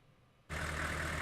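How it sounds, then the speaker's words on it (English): A truck engine idles in a dense, dark forest in the video game Corpse Party, cutting in abruptly from near silence to a steady, low mechanical drone that continues alone. "The only sound either of us could hear in this dense dark forest was out of the truck's engine idling away."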